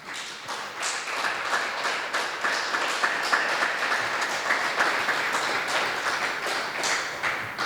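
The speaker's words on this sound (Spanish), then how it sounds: "Un aplauso al Señor." A church congregation gives sustained applause to the Lord, a thick, steady wash of many hands clapping that carries evenly from start to finish.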